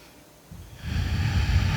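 A deep breath during a yoga warm-up, a soft airy inhale that swells and grows louder and rougher, close to the microphone, heard alone.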